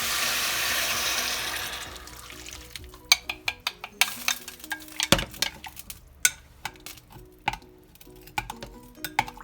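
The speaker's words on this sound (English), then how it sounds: "Just add water." Water poured into a pot of chopped courgette for soup, a brief gushing pour followed by irregular knocks, clinks and stirring clatter in a kitchen, close by and moderately quiet.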